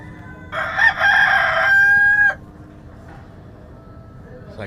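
A rooster lets out one loud, nearby cock-a-doodle-doo lasting about two seconds, ending in a sustained high note, over a low background hum.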